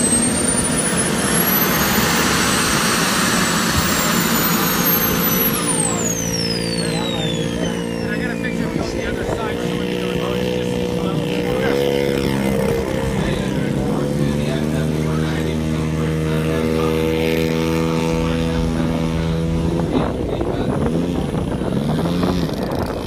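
Douglas A-20 Havoc warbird flying at an airshow: a loud, sustained piston-engine drone with a pitch that sweeps down as the plane passes, then a steady, rising and falling roar.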